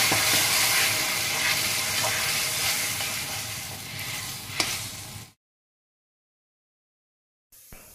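Paste of bhedailota leaves sizzling and spattering in a hot pan while being stirred, a loud continuous crackle that cuts off abruptly into silence.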